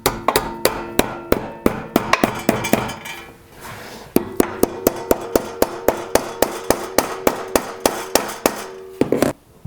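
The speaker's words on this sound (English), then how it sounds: "So I'm just tapping it with a brass hammer lightly here." Brass hammer lightly tapping the cover on a Briggs & Stratton small engine, a steady series of sharp metallic knocks with ringing overtones, close and distinct, pausing briefly midway before resuming.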